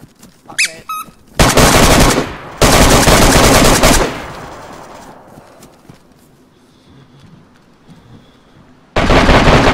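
Bursts of automatic gunfire in the PvP survival game DayZ, two long loud volleys back to back, then a quiet stretch with faint clicks before another burst starts at the end.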